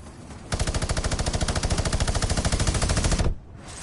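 Rapid pistol fire in Fortnite, a loud, close, unbroken string of quick shots lasting about three seconds and then stopping abruptly, with no talk over it.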